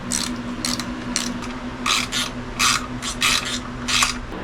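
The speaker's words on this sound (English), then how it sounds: "This is the most ill-fitting ratchet socket ever." A ratchet socket turns in short rasping clicking bursts while a tank is being removed during engine work, close up over a steady low hum, with brief pauses between strokes.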